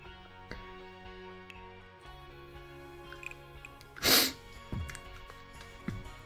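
A single sharp sneeze bursts out partway through a quiet room tone with faint steady background tones, followed by a couple of softer sniffs and snorts, close to the microphone.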